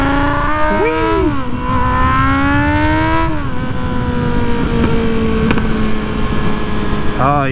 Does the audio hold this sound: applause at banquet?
no